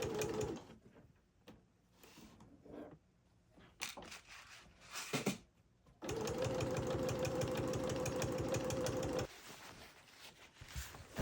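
A sewing machine stitches a photo quilt, starting after a few quiet handling noises and running in a steady, fast, close mechanical whir for several seconds before slowing and stopping.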